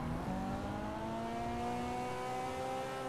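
A car engine revs and accelerates in the video game GTA V, its steady rising engine tones running loud and continuous across the clip with no talking.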